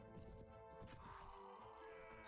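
Horse sounds from the medieval fantasy game Prophesy of Pendor, with a low rumble of hooves and a brief higher neighing tone in the middle, steady and moderately quiet, ending in a sudden loud burst.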